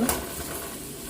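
Sliced shallots fry and are stirred in a pan, giving a short burst of spoon-on-pan scraping over a soft sizzle, close and brief with no voices.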